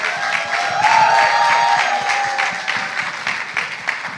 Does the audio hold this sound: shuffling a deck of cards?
no